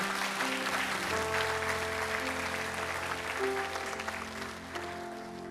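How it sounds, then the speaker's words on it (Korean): A church congregation at a Sunday worship service gives a big round of applause to bless a child. The clapping is soft and distant over held keyboard chords and lasts about five seconds. "우리 큰 박수로 준이를 축복해 주십시오"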